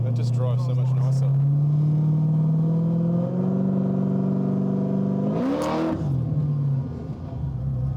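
A supercharged BMW car revs and accelerates hard on the street, its engine note rising steadily in pitch with a brief sharp surge near the end before easing off, loud and close with no speech over it.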